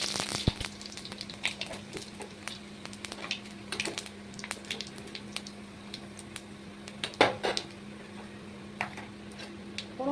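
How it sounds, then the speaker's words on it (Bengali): Panch phoron and dried red chillies fry in oil in a wok, giving a quiet, scattered crackle of small pops and sizzles over a faint steady hum. "কড়াই তেল দিয়ে দিয়েছি, এখানে ফোড়নে যাবে 5 ফোড়ন আর শুকনো লঙ্কা।"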